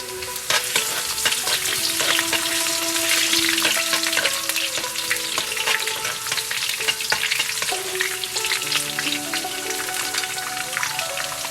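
Ginger slices frying in a pan during preparation of a salmon head rice soup with Japanese pumpkin, producing a continuous loud close sizzle and crackle with spatula scrapes, while faint tonal kitchen background runs underneath.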